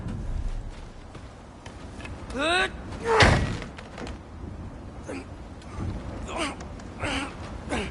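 A frozen door is forced open in God of War Ragnarök: straining grunts and a gasp lead into a heavy cracking slam and thud, with creaks and rattles after it, mixed with character voices.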